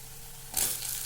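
Tomatoes drop into a pan of sizzling chicken curry, and a sudden, loud burst of hissing sizzle follows a quieter low simmer and then holds steady.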